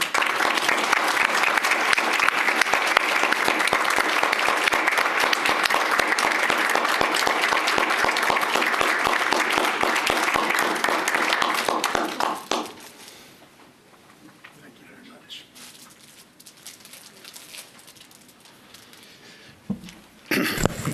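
Hearty applause from attendees at a county board meeting rolls on for about twelve seconds, then stops abruptly, leaving a quiet room with scattered small noises.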